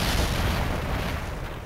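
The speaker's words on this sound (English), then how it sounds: "I think I heard an explosion somewhere." A deep, booming video game explosion, from Ghost Trick, with a rumbling roar that fills the clip and slowly dies away.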